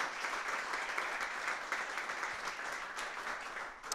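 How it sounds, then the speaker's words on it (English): An audience at a leaders panel event applauds the panel speakers, a steady wash of many hands clapping at moderate volume that carries on unbroken from start to finish. "So I think a round of applause for all the speakers,"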